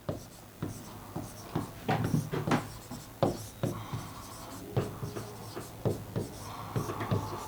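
Chalk or marker writing on a board during a Hindi lesson, a series of short scratchy strokes and taps spaced irregularly, close up, with someone speaking faintly in between.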